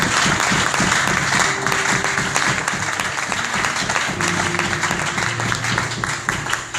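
Church congregation applauding the Lord, sustained loud clapping from a crowd filling the room for several seconds, with faint voices and tones mixed underneath.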